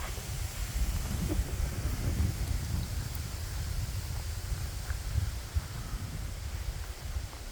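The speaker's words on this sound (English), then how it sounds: "So today is a very windy day" Strong wind buffets and rushes steadily throughout, a constant low roar with gusty rumbling.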